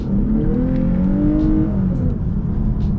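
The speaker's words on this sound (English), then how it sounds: "This V6 engine sounds really nice." A V6 engine in a 2022 Lexus IS350 F Sport, rear-wheel drive with an 8-speed automatic, pulls hard through the revs. The loud, steady engine note rises and shifts pitch for three seconds with no talking.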